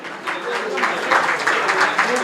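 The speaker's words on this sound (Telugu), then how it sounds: "గట్టిగా చప్పట్లు కొడదాం" A congregation claps during cake cutting at the inauguration of Padre Pio church in Kondalaraopalem, a broad wash of applause rising and holding, with voices talking over it.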